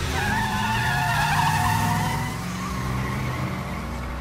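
A car pulls away with its tires skidding, a continuous loud squeal over engine roar that holds steady and then eases slightly as it leaves.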